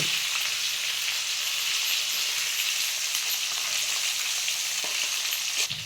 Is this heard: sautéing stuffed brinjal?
yes